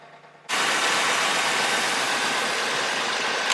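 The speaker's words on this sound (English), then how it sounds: "That's how easy you can start the vehicle with this jump starter." A car engine that has just been jump-started with a Lokithor J400 catches abruptly after a brief quiet moment, then settles into a loud, steady, close idle rumble with no talking.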